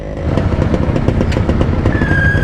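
Congested Divisoria street traffic of tricycles, motorcycles, cars and trucks: a dense, steady wall of engine rumble and clatter close by, with a brief horn-like tone near the end.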